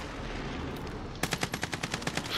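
Rapid automatic gunfire in Call of Duty Warzone, a fast burst of about a dozen sharp, evenly spaced shots that begins abruptly after a stretch of ambient game noise.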